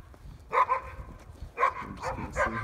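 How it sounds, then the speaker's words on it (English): Neighborhood dogs bark a few times at a moderate distance in short separate bursts, outdoors against a quiet background. "Got some neighbor dogs that bark all the time."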